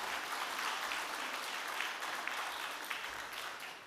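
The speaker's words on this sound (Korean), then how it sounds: "박수" A church congregation claps together at a thanksgiving service for ordination and retirement, a dense, even wash of applause that holds steady and fades slightly toward the end, with no talk over it.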